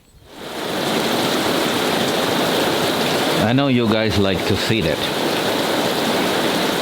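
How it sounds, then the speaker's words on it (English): Heavy rain falling steadily outdoors on a cloudy day, a loud dense wash of sound that swells in within the first second and holds, with a person speaking briefly midway over it. "It's now half an hour that it rains like that."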